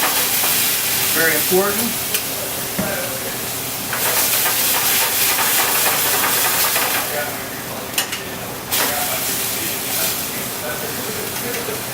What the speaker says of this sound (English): take this wine and we're going to deglaze it